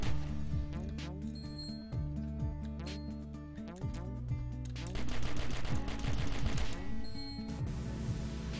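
Pistol gunfire in the video game Cally's Trials: rapid, repeated sharp shots crack over continuous game music, loud and close, in quick bursts throughout.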